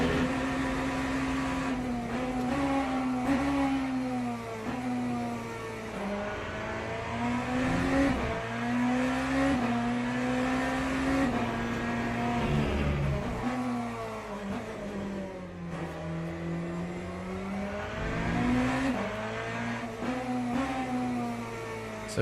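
A race car pushed to the limit in the sim racing game Le Mans Ultimate drones with a steady high engine whine that rises and falls through gear changes and corners, continuous and close, with no voices.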